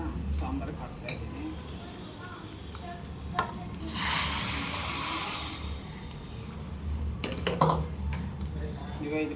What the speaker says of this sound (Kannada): ಈಗ ಒಗ್ಗರಣೆನ ಸಾಂಬಾರಿಗೆ ಹಾಕ್ತಾ ಇದ್ದೀನಿ.